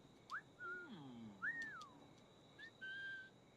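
A game character in Assassin's Creed IV Black Flag whistles a short, rising-and-falling tune in a few separate bursts. It sounds clear and moderately quiet, with faint background ambience and no talking.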